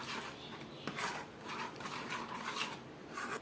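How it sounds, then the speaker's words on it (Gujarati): Moong dal dhokla batter mixed by hand in a bowl, soft rhythmic scraping and stirring strokes, faint and close, with a light clink partway through. "હવે આપણે બધી વસ્તુને સારી રીતે મિક્સ કરી દઈએ."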